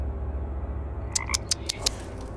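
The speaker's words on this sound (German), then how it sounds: "Frosch." Frog croaks from a video game, five short distinct calls in quick succession over a steady low background hum, no voices.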